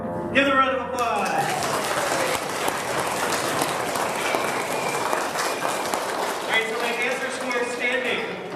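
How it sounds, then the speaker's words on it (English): A crowd applauds a fourth-grade class after their mid-year school performance, a broad, steady wash of clapping that swells in after a brief pause and holds throughout, with some voices mixed in. "Give them a round of applause."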